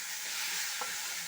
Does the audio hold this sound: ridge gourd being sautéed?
yes